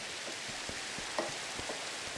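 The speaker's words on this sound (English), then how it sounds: "It's raining in a cave." Rain falling inside a cave in the Minecraft video game, a steady soft hiss of patter with scattered small droplet ticks, evenly spread and fairly quiet.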